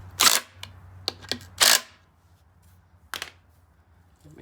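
Torque wrench tightening a bolt to spec while reassembling the lower end of a Polaris 570 engine: a few sharp close metallic clicks and ratchet snaps in quick bursts, then a quieter pause and one more click, with no talking.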